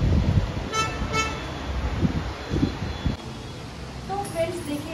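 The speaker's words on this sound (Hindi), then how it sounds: "और गाड़ियों की आवाज़ भी आ रही है" Road traffic beside a riverside outdoor restaurant and pub, with a steady rumble of passing cars and a couple of short horn toots early on, heard under nearby conversation and light wind.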